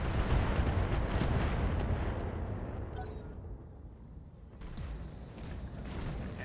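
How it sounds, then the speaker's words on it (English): An enemy mortar turret pounds away in a base-capture video game, dense heavy artillery booms and crackling blasts filling the scene loudly and continuously, with a brief lull before the barrage swells again. "Mortar turret. That's what was pounding my battle armor."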